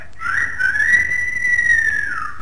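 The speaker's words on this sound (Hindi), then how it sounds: "ये सीटी बजाने वाला?" A single sustained human whistle, loud and close, holds one steady tone that rises slightly and then tails off, alone without talk.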